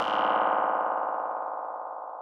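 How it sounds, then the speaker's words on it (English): Small clicks for a ballista's arms opening and closing are processed with delay, distortion and a vocoder into one sustained buzzing, metallic drone that slowly fades over about two seconds. "these little clicks, which correspond to the Ballista's arms opening and closing"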